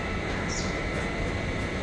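A train rushes past in a broad, steady roar of rolling rail noise that holds at a constant loud level throughout, with no talking.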